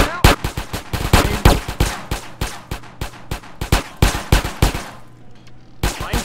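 Rapid gunfire from a shootout in GTA San Andreas, close and loud: a long series of sharp shots, some in quick automatic bursts, with brief gaps and a low hum under them.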